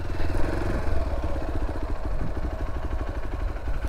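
A Hero Xpulse 200 4V motorcycle being unloaded, its single-cylinder engine running close by with a steady, loud, throbbing rumble throughout, without any speech.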